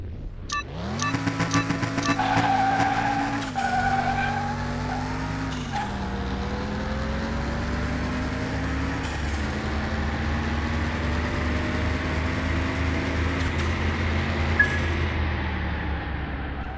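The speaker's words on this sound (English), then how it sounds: "Gotta love the sound of the turbo in there" A turbocharged car engine in Car Mechanic Simulator 2021, loud and continuous, revving up through the gears with each shift marked by a brief drop before the pitch climbs again, with no voices.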